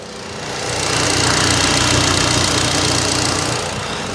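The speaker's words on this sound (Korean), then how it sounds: "엔진 소리 들려드리기 위해서 제가 본넷을 열었는데요" A 2019 Hyundai Avante AD car engine idles steadily and loudly up close with the hood open, a continuous rumbling hum with a faint rhythmic knock, no voices.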